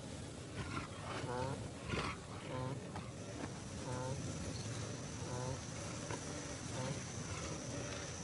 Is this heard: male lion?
yes